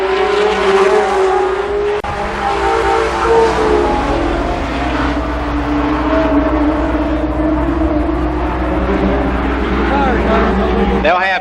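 Race cars roar around the Columbus Motor Speedway track, engines rising and falling as they pass, with a race announcer talking over the loud, continuous engine noise.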